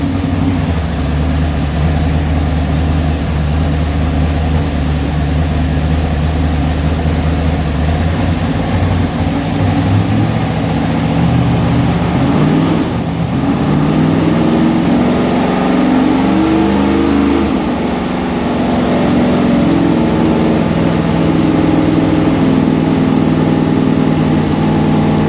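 Pontiac 301 V8 in a 1968 Firebird racecar roars on a chassis dyno, a loud sustained pull that climbs steadily in pitch, dips briefly, then surges again at full throttle.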